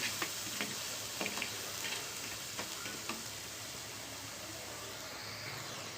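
Raw salt being stirred into a simmering Pulasa fish curry, a Godavari specialty, with a steady sizzling hiss and scattered light scraping ticks from the spoon, close and moderately quiet.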